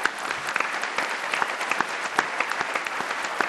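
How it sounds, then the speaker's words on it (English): At a diversity and inclusion executive forum, an audience gives a round of applause, many hands clapping steadily with some sharp individual claps standing out, no speech on top. "I want to give this group a round of applause for all of their help."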